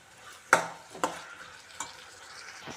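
Banana stem palya being stirred in a frying pan, with three distinct scraping stir strokes over a soft, steady sizzle; no voices.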